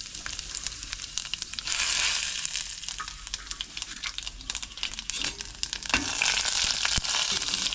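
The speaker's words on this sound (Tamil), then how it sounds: "தாளிக்கிறதுக்கு வந்து சோம்பு ஜீரகம் வரமிளகா வச்சுக்கிட்டேன்." Fennel seeds, cumin and dried red chillies sizzle and crackle in hot oil for a village-style kuzhambu tempering. The frying is steady and close, with sharp pops scattered throughout and no talking.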